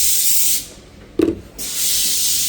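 A paint sprayer applies primer to kitchen cabinets during a white oak kitchen remodel, a steady loud hiss that cuts out for about a second, gives a short sharp puff, then resumes spraying continuously.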